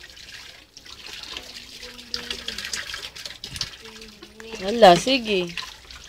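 Water poured over a child in a bathing suit during a bath, heard as splashing and running water while voices talk nearby and a voice rises near the end.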